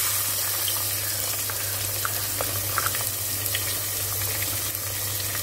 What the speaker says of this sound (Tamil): இந்த ஆனியன் வந்து நல்ல மெரூன் கலர் ஆகிற வரைக்கும் நல்லா வதங்கணும்.